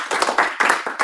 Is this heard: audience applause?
yes